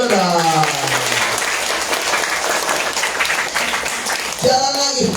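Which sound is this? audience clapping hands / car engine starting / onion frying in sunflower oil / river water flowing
audience clapping hands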